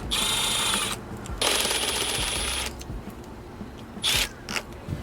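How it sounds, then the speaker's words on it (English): Whirring mechanical rattle of a T20 Torx socket on an extension backing out throttle body screws on an Isuzu NPR truck, two sustained bursts close up, then quieter ticks and a brief final burst. "I'm going to go ahead and remove the two screws that are located here and down here."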